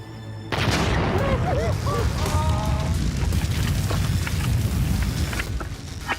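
After a sudden onset, a weapon fires and a large explosion follows as a loud, sustained rumbling roar with crackling debris. Voices are heard faintly over the blast.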